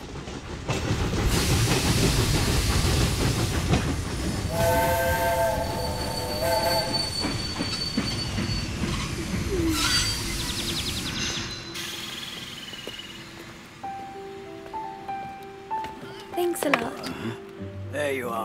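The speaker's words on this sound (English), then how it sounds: "Just wait until the train stops." A train rolls into a station in a Swiss mountain village with loud rumbling and sharp, sustained wheel squeals, gradually slowing and coming to a halt, with voices audible in the background.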